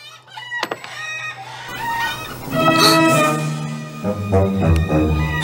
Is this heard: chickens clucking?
yes